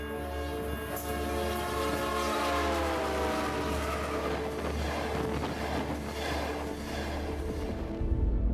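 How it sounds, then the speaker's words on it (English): A passing train sounds a loud, sustained whistle that fills the whole stretch with a rich harmonic tone, while the rumble and clatter of the rails run underneath as it goes by. "Think about how the pitch of a train whistle drops as it races past."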